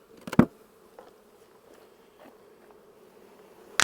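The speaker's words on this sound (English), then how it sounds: "A lot of bees." A low, steady hum of many honeybees on hive frames fills the background, with a couple of sharp handling knocks near the start and end.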